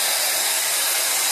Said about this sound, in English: I'm just gonna kind of rough up the part a little bit with a hairdryer.